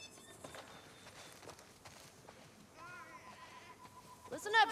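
Sheep bleating on a farm in the video game The Last of Us Part II, faint calls amid soft footsteps, with a rising bleat near the end and a voice talking over parts.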